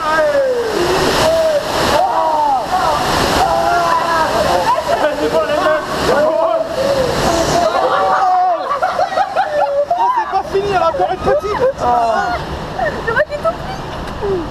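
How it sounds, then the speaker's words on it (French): Water ride at Parc Astérix with a waterfall pouring and waves splashing, a steady loud rush of water throughout, with excited voices talking and exclaiming over it. "La cascade, elle s'arrête plus."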